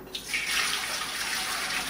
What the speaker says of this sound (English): we're going to start out by adding our water to the pot